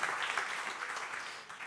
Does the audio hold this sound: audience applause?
yes